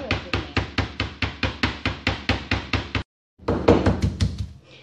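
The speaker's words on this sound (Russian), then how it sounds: "Вот таким вот образом накрываю и молоточком отбиваю филе." A meat mallet pounds covered chicken fillet in a fast, even run of about a dozen dull thuds, pauses briefly, then resumes with several more heavy blows.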